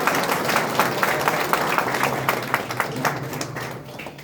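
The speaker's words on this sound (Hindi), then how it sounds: "अपने अगल बगल वाले व्यक्ति से हाथ भी मिला सकते हैं या एक जोरदार ताली बजा सकते हैं" Audience applause in a crowded hall during a motivational talk, a steady wash of clapping filling the space at moderate loudness.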